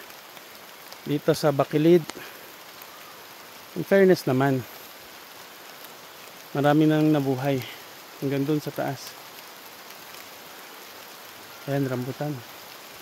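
Rain falls steadily on a farm planted with Mombasa and Mulato 2 grass, a soft continuous patter in the background while someone talks in several short bursts.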